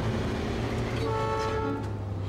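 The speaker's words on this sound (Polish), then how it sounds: "I ten poprawiony klakson" An upgraded truck horn in the Snowrunner off-road game blasts once with a loud, sustained, slightly wavering tone, close and alone over an engine rumble.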